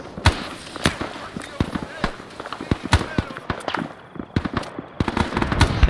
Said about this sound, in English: I think Rakai did a rocket run.